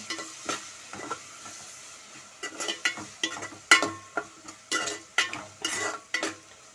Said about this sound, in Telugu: ఇప్పుడు బాగా కలబెట్టుకుందాం ఒకసారి